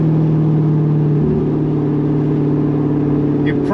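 A 2015 Corvette Stingray with a 6.2L V8 and manual gearbox pulls away from a standstill, its loud, steady engine drone holding and then shifting in pitch as it accelerates, heard up close from inside.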